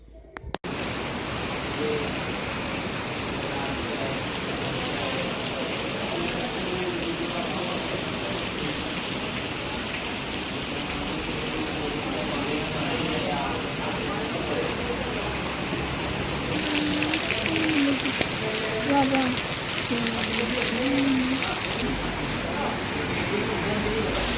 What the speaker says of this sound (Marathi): भरपूर गेस जोरात गेस पाऊस आलता